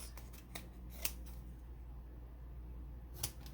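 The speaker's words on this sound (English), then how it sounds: "I just am eyeballing it with my scissors" A few sharp scissor snips cutting magazine paper, spaced irregularly, close and fairly quiet, with a steady low hum underneath.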